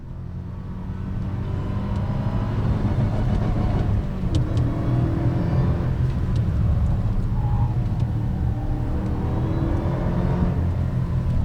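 Ford car driven hard by a professional driver on a closed test track, a steady loud engine roar with revving and rumble that holds throughout, no pauses, heard from inside or close by.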